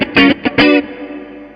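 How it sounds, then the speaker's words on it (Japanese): Electric guitar played through a LimetoneHOME 4LB with chorus engaged and reverb added: two loud strummed chords in quick succession, then a ringing reverb tail that fades out alone. "これにリバーブを足すと"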